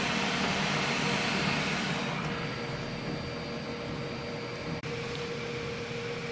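Dremel 3D45 3D printer running an XYZ calibration cube, a steady low mechanical hum and fan noise with faint whirring, one brief click near the end.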